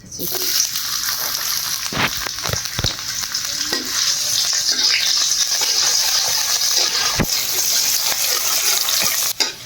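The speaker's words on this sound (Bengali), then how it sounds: "পেঁয়াজটা হালকা করে বাদাম কালার করে ভেজে নিয়েছি" Onions sizzle and fry steadily in hot oil in a wok, a constant crackling hiss broken by a few scraping stirs and knocks of a utensil against the pan.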